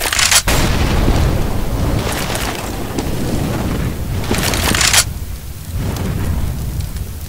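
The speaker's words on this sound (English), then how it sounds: "Second flashbang." Two heavy flashbang grenade blasts in a video game, one near the start and a second a few seconds later, each a loud broadband burst over steady rumbling game ambience.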